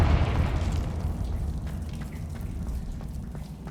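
A Confringo blasting spell explodes in Hogwarts Legacy: a loud, close boom at the start that decays into a rumbling, crackling tail of debris.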